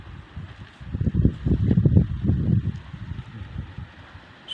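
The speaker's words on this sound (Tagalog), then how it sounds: "sobrang lakas ng hangin dito" Strong wind gusts buffet the microphone outdoors near a cornfield, surging in loud rumbling waves through the middle of the stretch before easing off, with no talk.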